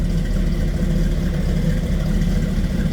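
A 1937 Ford street rod convertible idles steadily, a loud, close, low rumbling engine burble with an even throb and no voices.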